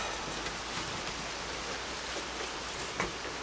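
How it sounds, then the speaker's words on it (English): Soft, steady patter of rain as a continuous hiss, fairly quiet and even, with a faint brief knock near the end. "it's raining good up there now"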